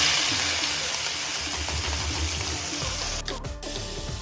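Chopped onions go into hot oil with browned cumin seeds in a pan, giving a loud, steady sizzle and hiss that holds throughout, with a brief dip and shift near the end as they are stirred.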